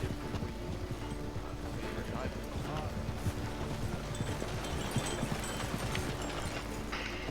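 Horse-drawn cart passing in Red Dead Redemption 2, with steady clip-clop of hooves and rolling wheel rumble continuing throughout while people talk over it.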